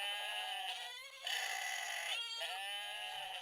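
A pocket goat sound toy plays its all-goats setting, a continuous overlapping chorus of wavering bleats and cries, several goats at once, steady and close with no voices.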